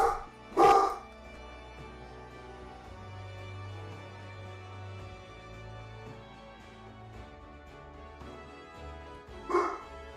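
A pet dog barks indoors, one loud close bark at the start and another near the end, separated by a long stretch of low hum and faint background sound.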